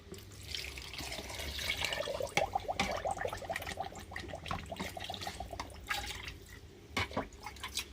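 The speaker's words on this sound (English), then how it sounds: "Now I'm going to add some water." Water is poured into a blender holding ripe plantain smoothie ingredients such as nutmeg, peanut butter and oats, making a close, uneven trickle and splash with small drips.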